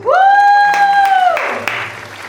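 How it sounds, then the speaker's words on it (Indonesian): A long sustained tone fades into a wash of audience applause at a product launch for CV Sejahtera Sentosa, the clapping steady and moderately loud to the end. "Beri tepuk tangan yang meriah"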